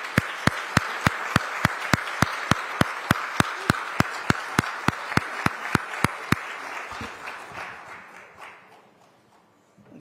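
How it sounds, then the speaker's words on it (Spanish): A live audience greets an honored guest with warm applause, steady sustained clapping with sharp rhythmic beats that swells and then fades away to quiet. "recibimos con un cálido aplauso a ese grande, Elis Pérez."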